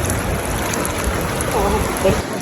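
Hot spring water in Iceland flows down from above into a bathing pool, a steady close rush and splatter with a brief faint voice near the end.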